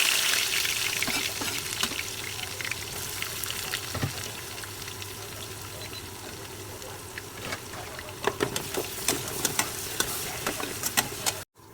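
Sliced onions sizzle steadily in hot oil with cloves, cardamom and cinnamon while chicken curry is cooked, a continuous close frying hiss broken by occasional crackles and stirring clinks.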